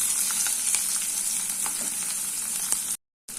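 Sliced onion frying in hot oil with mustard seeds and fennel for a tiffin sambar gives a steady, close, loud sizzle with small pops, cutting out briefly near the end.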